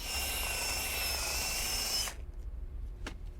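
A power tool hollows out a wooden foot stool with a steady, close whine that runs for about two seconds, then cuts off, leaving quieter rubbing and a single sharp knock.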